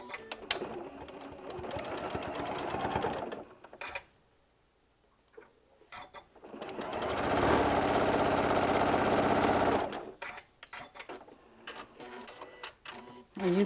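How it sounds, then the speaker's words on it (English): A sewing machine stitches a quarter inch across the folded tops of bag handles, with two loud steady runs of rapid mechanical chatter split by a quiet pause, then short bursts and clicks. "I'm just going to leave them folded over and just sew a 1/4 inch across the top."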